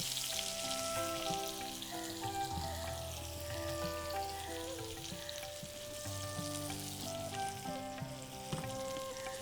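Grated garlic frying in oil for grilled king prawns, a steady bubbling sizzle running throughout at low volume beneath a prominent layer of background music, with no talking.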